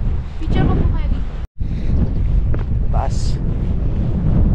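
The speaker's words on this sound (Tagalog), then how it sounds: "Dito medyo wild na naman yung hangin." Strong gusting wind on the summit of Mt. Timbak roars and buffets the microphone loudly throughout, with a brief dropout and a voice speaking faintly under the rush.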